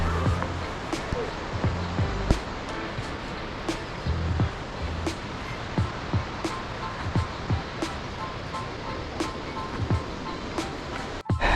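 A waterfall beside a misty trail on Mount Rinjani, along the Torean route, gives a steady broadband rush of falling water that holds at an even level throughout, with faint murmurs of voices now and then.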